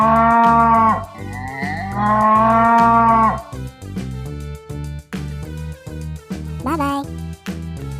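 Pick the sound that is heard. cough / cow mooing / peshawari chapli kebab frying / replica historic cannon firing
cow mooing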